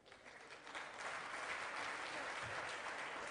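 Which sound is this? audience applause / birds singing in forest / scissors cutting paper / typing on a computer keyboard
audience applause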